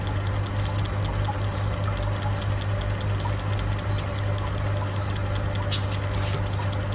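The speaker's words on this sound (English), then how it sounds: "It'll pump that out again." A KH Guardian alkalinity tester pumps liquid out of its chamber with a continuous rapid pulsing motor buzz, close and steady throughout, with no voices.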